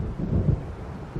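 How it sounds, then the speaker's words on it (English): Thunder from an approaching storm in Alan Wake Remastered rumbles low and close in a brief rolling swell, with no voices. "It seems there's a storm coming"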